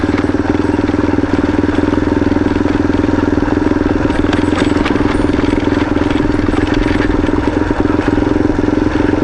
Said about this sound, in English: We're just idling down the road here.